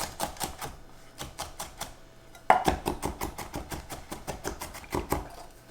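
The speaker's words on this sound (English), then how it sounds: "I'm going to start by peeling and roughly chopping the garlic." Fast, rhythmic knife chops strike a cutting board while garlic is roughly chopped, close and crisp, with a brief louder clatter partway through and no talk.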